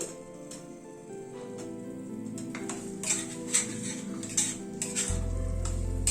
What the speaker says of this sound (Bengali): কর্নটাকে একটু মশলার সাথে কষিয়ে নেব।